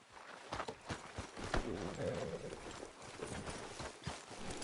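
Horse hooves clip-clop at a steady walking rhythm in the Red Dead Redemption 2 video game, moderately close and soft, with a voice talking faintly in the background.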